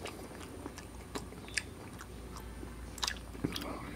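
A blackcurrant ice cream lollipop is bitten and chewed close up. Soft, steady chewing is broken by a few crisp, sharp bites, all quiet and intimate.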